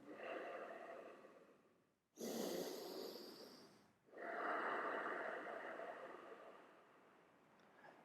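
Slow, audible breaths during a seated chair yoga practice: a long airy exhale, a short sharp intake, then another sustained breath, close and fairly loud with no talking.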